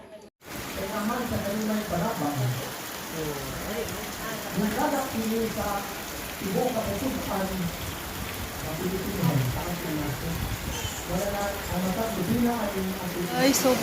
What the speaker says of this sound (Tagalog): Ay, sobrang lakas ng ulan.